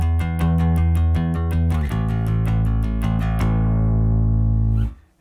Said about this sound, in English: and then I'll use a pick, which is a little more aggressive.